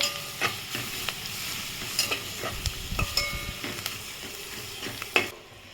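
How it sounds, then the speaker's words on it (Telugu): Ginger-garlic paste sautéing in a pan for tomato coriander curry, with a spoon stirring and tapping against the pan in an uneven rhythm over a constant sizzle, close, ending on a louder knock. "ఇప్పుడు కొంచెం మంచిగా కలుపుకుందాం అల్లం వెల్లుల్లి పేస్ట్ పచ్చవాసన పోయే వరకు మంచిగా మగ్గించుకోవాలి"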